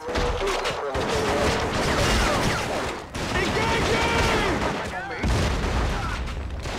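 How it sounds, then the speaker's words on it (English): AK rifle fires in bursts during a Vietnam War battle in the PS2 game Shellshock Nam '67. The gunfire is loud, dense and nearly continuous, with booming impacts and combat voices mixed in, and it breaks off briefly midway. "I changed the AK to burst"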